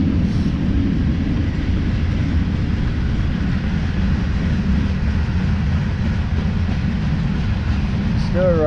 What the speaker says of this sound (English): Still riding right alongside the train.